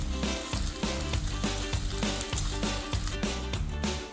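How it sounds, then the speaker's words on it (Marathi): Onion sautéing in a pan for chicken biryani, a dense close sizzle with rhythmic stirring knocks repeating throughout, no voices. "तर आपण छान परतवून घेऊया हा कांदा."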